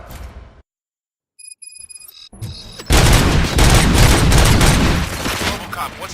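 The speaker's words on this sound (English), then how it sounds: "Gunshots? What's going on?" Heavy gunfire in the video game RoboCop: Rogue City, loud dense bursts and booms erupting after a brief silence and electronic chimes, continuing as a sustained barrage.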